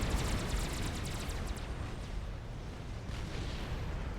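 A heavy bomb dropped by an experimental bomber explodes in the Supreme Commander strategy game, followed by a dense, loud rumble of blasts and artillery-like booms that keeps going at an even level throughout.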